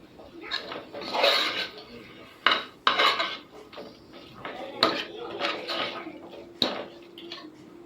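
A ladle scrapes and clanks against a pot while tomato rice is stirred together with chopped coriander and mint, giving irregular close metallic knocks and scraping over a soft background.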